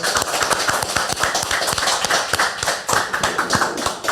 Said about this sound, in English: Can I get a round of applause, everybody?